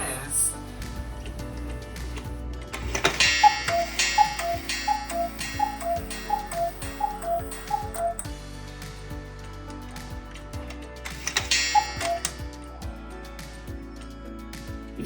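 A freshly cleaned cuckoo clock ticks steadily and close up, with regular even ticks throughout and a few brief louder clatters of mechanism noise; someone talks over part of it.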